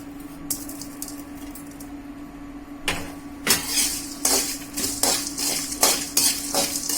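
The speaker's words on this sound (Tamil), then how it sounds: "இப்போ இது எல்லாத்தையுமே பொன்னிறமாக வர வரைக்கும் நல்லா வறுத்துக்கணும்." Dried red chilies, fenugreek, cumin, pepper, green chilies and coriander roast in a pan for Kerala-style ulli theeyal: a low background hiss broken by repeated scraping, stirring clatters of a utensil against the pan, growing busier toward the end, without speech.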